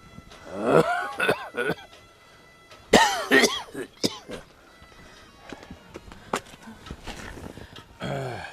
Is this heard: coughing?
yes